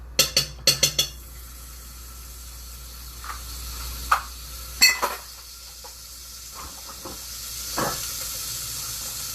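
Butter and extra virgin olive oil sizzling in a pan: a continuous soft hiss with a cluster of sharp clicks and knocks at the start, then occasional utensil taps over the quiet sizzle.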